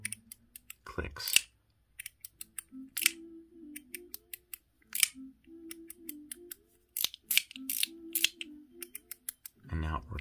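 Sharp, distinct clicks from a YIJOO Mech Egg fidget toy come in bursts of several quick snaps close up. A low murmur of talk sits between the clicks.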